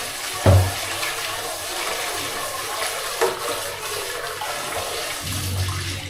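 Running water rinses a rice cooker pot, a steady splashing rush through the whole stretch with a couple of brief clunks of the pot, no voices over it.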